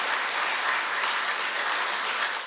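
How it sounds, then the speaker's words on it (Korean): A room full of people applauds to welcome a documentary producer at a rally, a steady, dense wash of clapping that stays loud and even from start to finish with no voices on top. "큰 박수로 환영해 주시면 감사하겠습니다"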